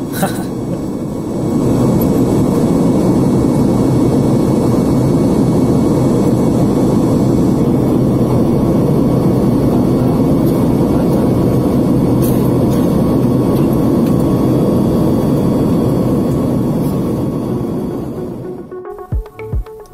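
Steady, loud airplane cabin drone on a night flight, a broad constant roar holding for most of the stretch before fading out near the end.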